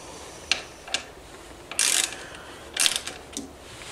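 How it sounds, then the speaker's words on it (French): Ratchet fitted with a 4 mm Allen bit loosening the two screws on a scooter crankcase cover hiding the oil pump, giving a few short clicking bursts with two longer ratcheting runs, close and fairly quiet. "nous utilisons un cliquet équipé d'un embout Allen de 4"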